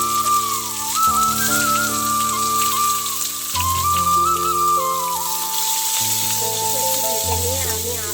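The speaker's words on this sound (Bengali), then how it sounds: "এরপরে আমি পেঁয়াজগুলো দিয়ে দেবো।" Onions frying in hot oil with whole garam masala and cumin seeds, giving a steady, close sizzle that runs throughout beneath continuous background music.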